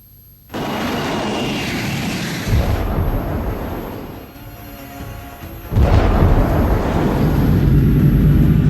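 A US fighter jet roars overhead in a broad, loud rush that swells, dips and surges again in several passes, with no voices.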